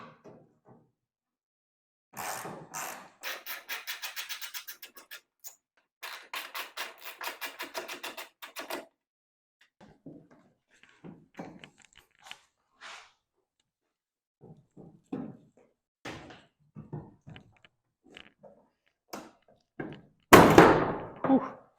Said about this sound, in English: that took a little bit of prying because you have to pop these pins out